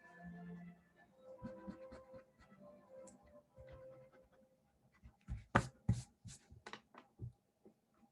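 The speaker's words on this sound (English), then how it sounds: "We just go ahead and we erase them." An eraser rubs pencil lines off paper in a series of brisk, close, scratchy strokes near the end, after quieter faint rustling.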